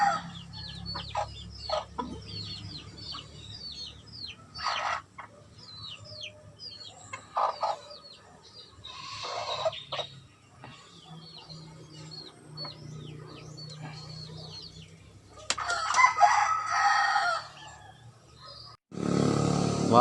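Chickens cluck and squawk steadily through a farmyard scene, with bursts of louder calls and a rooster's sharp, harsh crow near the end.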